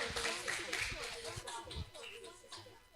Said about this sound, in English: So give one big applause once again to Professor Susan.